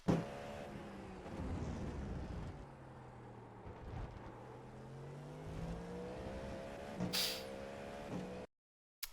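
A GTP race car in the iRacing video game screams along at full speed at Laguna Seca, its engine pitch climbing and dropping through gear changes, followed by a brief cutout near the end.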